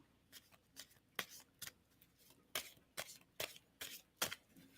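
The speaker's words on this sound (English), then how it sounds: "tell me when to stop shuffling" Tarot cards are shuffled in quick, crisp riffling bursts, about a dozen short slaps and rustles spread unevenly, close and fairly quiet with no talk.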